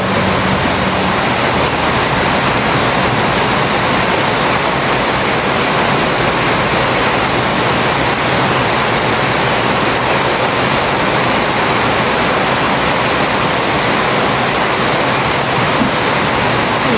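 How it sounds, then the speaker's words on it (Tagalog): Heavy rain pours down steadily outdoors, a loud, unbroken wash of dense hiss with no pauses throughout. "Malakas ang ulan."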